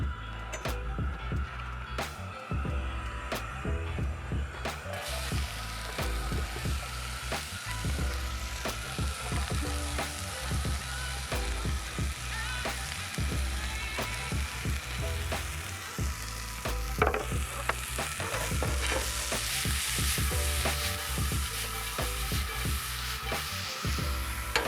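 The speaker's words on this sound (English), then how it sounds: "So we're gonna keep that pan going and transfer the rest of our fajita ingredients." Steak fajita ingredients frying in a skillet at a campsite, a loud continuous sizzle close by, broken by frequent clicks and scrapes of stirring and utensils against the pan.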